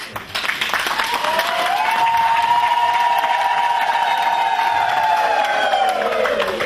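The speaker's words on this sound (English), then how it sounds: "So if you can just give him a round of applause." An audience breaks into applause and cheering, a steady wash of clapping joined by a long sustained whoop or shout from the crowd, fairly close and loud.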